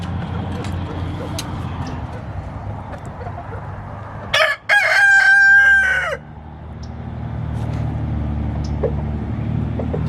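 A rooster crows loudly once close by, over a steady background of low engine rumble and faint clucking.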